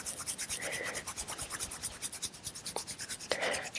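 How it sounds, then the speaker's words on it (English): Cupped hands gently rub the earlobes during a floor-based yoga routine for neck and shoulder tension, a soft close rhythmic brushing that repeats several times a second, quiet and without talking. "cup your hands and then gently rub your earlobes"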